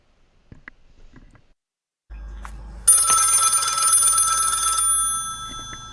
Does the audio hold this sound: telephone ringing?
yes